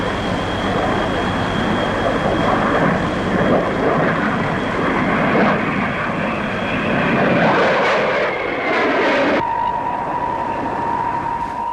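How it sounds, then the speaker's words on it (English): A Hawker P1052 jet with a Rolls-Royce turbojet flies at the Farnborough air show, a sustained roar with a high whine that holds steady and then shifts sharply near the end, heard from a distance. "a Hawker P1052 powered by a Rolls-Royce Lean turbojet"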